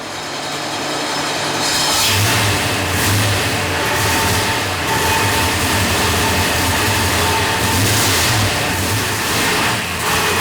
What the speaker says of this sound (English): it's time to fire our big block up and let her rip